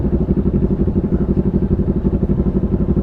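A Kawasaki Z400 motorcycle fitted with an AR exhaust idles loud and close, its deep rumble pulsing in a steady, even rhythm throughout.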